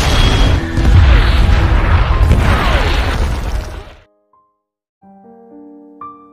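New Zealand artillery shells pound North Vietnamese troops in a rubber plantation forest at Long Tan in a war film: heavy booming blasts and rumbling debris for about four seconds, then sudden silence and a few faint tonal sounds.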